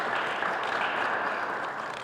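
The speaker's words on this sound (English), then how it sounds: "So another round of applause for Attleboro." Steady crowd applause, dense clapping from many hands at an even level throughout, with no voices standing out.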